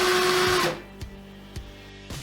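A power drill whirs at high speed, then stops abruptly, followed by a few brief clicks and faint clunks.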